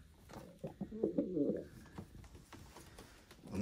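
Pigeons cooing, a low throaty burst of coos up close over a faint background with scattered clicks.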